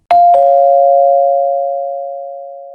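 A doorbell at a front door rings with two quick electronic strikes that merge into one sustained tone, fading slowly over a couple of seconds with nothing else heard.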